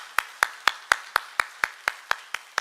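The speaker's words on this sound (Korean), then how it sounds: "우리 하나님께 영광의 박수 한번 올려드렸으면 좋겠습니다" A single pair of hands claps in a slow, even rhythm during a church service, about eleven sharp close claps spaced regularly with no talk over them.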